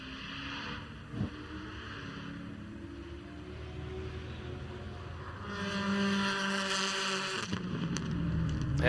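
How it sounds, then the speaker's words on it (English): Subaru race car with a smaller-displacement engine passing on the Mid-Ohio track during a time-attack sprint, a steady mid-distance engine drone that swells louder and rises in pitch as the car approaches near the end. "That is a smaller displacement engine that's working."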